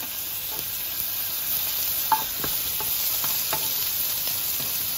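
Prime rib steak sizzles in butter in a pan with a steady frying hiss, broken by a few soft spoon or utensil taps.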